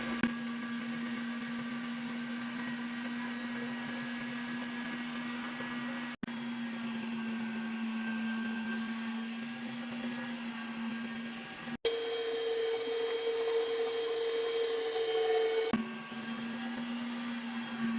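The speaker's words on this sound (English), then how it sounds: "Now we have to put the meat inside the meat grinder" An electric meat grinder runs with sausage meat and a little oil, a steady motor whine at an even pitch that shifts briefly higher in one stretch before settling, close and continuous with no talk.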